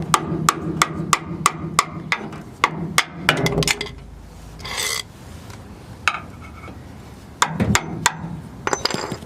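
A hammer drives a bolt out of a leaf spring hanger on a Nissan D21 Hardbody pickup: a rapid run of sharp metallic blows, then a pause with some scraping, then a few more clustered strikes.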